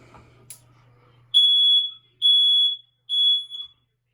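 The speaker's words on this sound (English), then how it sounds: "Test those smoke alarms on a monthly basis." A smoke alarm gives three loud, piercing beeps at even intervals, after a brief faint rumble and click.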